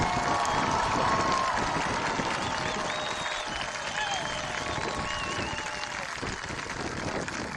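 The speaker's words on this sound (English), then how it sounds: "How about a round of applause for our 2023 graduates?" A crowd at a 2023 graduation ceremony applauds the graduates, with sustained clapping mixed with cheers and a few shrill whistles throughout, loud and continuous.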